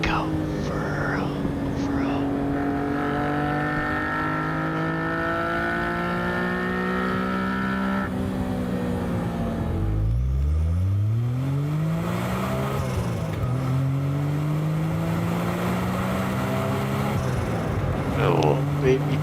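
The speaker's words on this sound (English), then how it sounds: "ASMR of the engine. Listen to it go furrow." A small turbocharged Suzuki car engine revs hard, its pitch sweeping down and climbing again in a rising whine over a steady mechanical drone.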